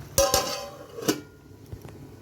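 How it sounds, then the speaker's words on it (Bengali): A metal lid clatters onto a cooking pan of cheesy chicken, giving two sharp clinks close together and then a third knock, followed by fainter small taps in a quiet kitchen. "আমি এটা এখন ঢাকা দিয়ে দিচ্ছি"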